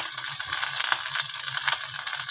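Chili powder frying in butter in a pan over low heat, a steady soft sizzle with a faint rhythmic crackle throughout, close and alone.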